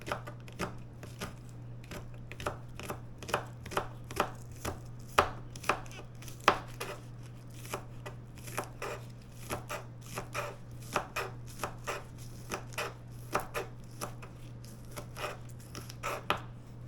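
Onions are chopped with a knife on a board in fast, steady, evenly spaced sharp thuds over a constant low hum, close up with no talking.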